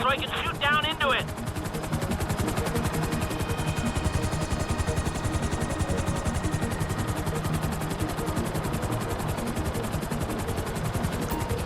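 Helicopter hovering in Grand Theft Auto V, a steady rapid rotor chop with engine whine running throughout, joined by a brief burst of higher tones early on.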